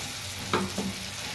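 Ground spice paste sizzles in hot oil over fried onion and tomato, a steady frying hiss broken by two brief scraping stirs of a spatula in the pan.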